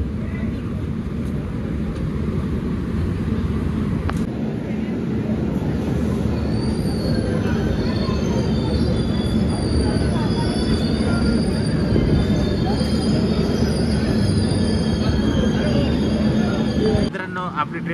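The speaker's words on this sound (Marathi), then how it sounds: "आपली ट्रेन आलेली आहे 2 वर" A train rolls into platform 2 at Jalgaon Junction on the Shri Ganganagar SF Express route, with steady loud rumbling and wheel squeal throughout and faint voices in the background.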